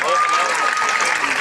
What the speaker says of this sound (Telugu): అందరూ బిగ్గా క్లాప్స్ కొట్టండి